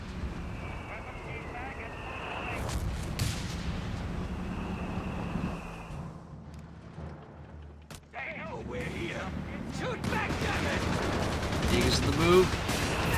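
Sturmpanzer artillery fires in a Company of Heroes 3 match, heavy booming blasts mixed with scattered gunfire and battle noise, while a caster talks over the action.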